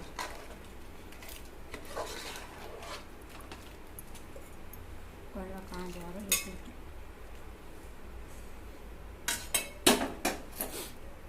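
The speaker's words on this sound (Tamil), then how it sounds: "தேவையான அளவு தண்ணி ஊற்றி நல்லா மிக்ஸ் பண்ணி விட்டுக்கிறோம்" Utensils scrape and clink against a cooking pot as goat intestine curry is stirred with water, with a few sharper metallic knocks near the end.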